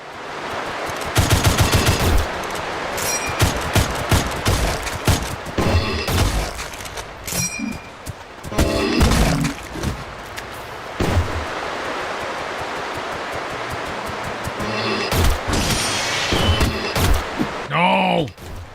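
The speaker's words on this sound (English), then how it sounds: "The Revolver Garand ping." Gunfire from a revolver and a Garand rifle in a Doom-based video game, with repeated loud sharp bursts and single shots scattered through the passage amid game noise, including a bright metallic ping.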